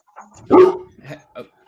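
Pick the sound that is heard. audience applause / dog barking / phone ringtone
dog barking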